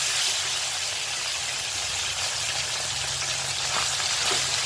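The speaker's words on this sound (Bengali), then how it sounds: "এদিকে দেখুন তেলটা গরম হয়ে এসছে, মাছগুলো ভেজে নিচ্ছি।" Small, oily winter fish fry in hot oil, making a loud, even, continuous hiss and crackle that stays close and unbroken throughout, with no voices over it.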